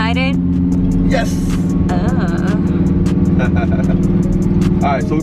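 A Lamborghini Aventador drives up with a loud, steady engine rumble, while excited voices chatter and exclaim over it at close range.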